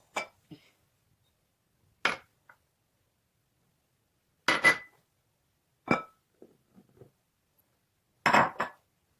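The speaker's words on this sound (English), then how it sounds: "Now mixing dry ingredients together." A bowl of all-purpose flour, salt and baking soda is stirred together, producing a handful of separate clinks and taps of utensil against bowl spaced out over quiet gaps.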